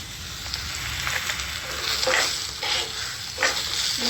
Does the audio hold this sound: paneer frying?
yes